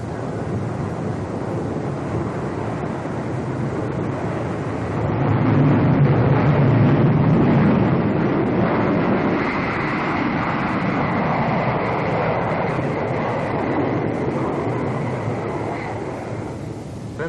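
Roaring B-47 jet bomber engines opened to full throttle, a loud continuous broadband rush that swells after a few seconds and holds steady, with no voices over it.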